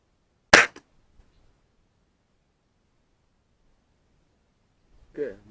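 A single sharp air rifle shot fired while zeroing a scope, a brief crisp crack near the microphone followed by silence, then faint talk at the end.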